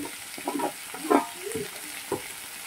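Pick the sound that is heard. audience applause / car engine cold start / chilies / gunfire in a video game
chilies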